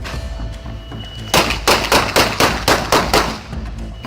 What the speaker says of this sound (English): they were immediately met with a relentless barrage of gunfire